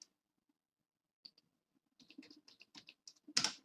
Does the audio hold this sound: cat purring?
no